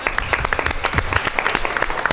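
Audience applause at a lively Marbella stage show, a steady close patter of many hands clapping for about two seconds, with faint voices mixed in.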